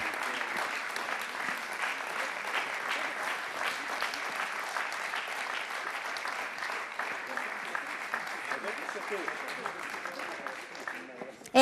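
A crowd at an award ceremony applauds steadily, keeping up a dense, even clapping for over ten seconds with talk faintly mixed in.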